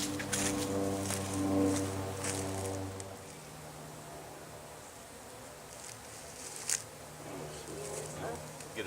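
Honeybees buzz around an open hive while a frame of brood is worked, a steady insect drone with brief louder passes, and people talk quietly nearby.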